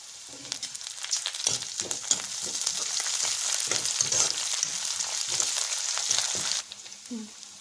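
Onions and green chillies frying in a pan for veg Manchurian, a steady bright sizzle with scattered scraping stirs and spoon clicks, cutting off abruptly near the end to leave a few quieter knocks.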